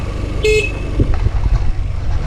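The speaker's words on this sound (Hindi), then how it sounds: "टर्निंग के टाइम हॉर्न मारने का।" A short, bright car horn toot sounds once over steady traffic and engine rumble, fairly close, given while turning during a driving lesson.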